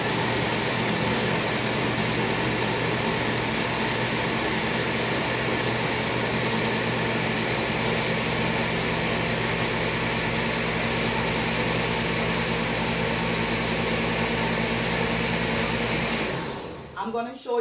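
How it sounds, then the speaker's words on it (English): A blender grinds peanuts, oatmeal and coconut milk for porridge, making a loud, steady whirring roar that holds for most of the time and then cuts off abruptly near the end. "So I'm going to go ahead and blend."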